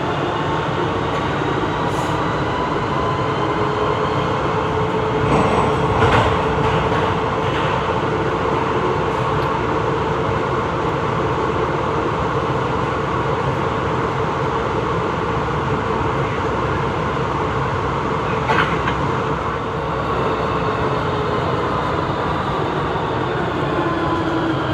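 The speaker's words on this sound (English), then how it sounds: "Here I am departing around a metro station." A metro train in Turin runs steadily through the network, giving a continuous loud rumble and whine inside the carriage with faint rattles and brief squeals over about twenty-five seconds, and no voices.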